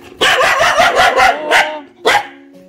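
A dog barks in a rapid series of loud, close yaps with a growly edge, pausing briefly before one more bark.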